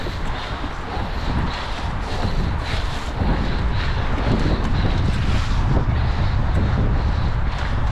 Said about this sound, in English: it's still pretty damn windy up here actually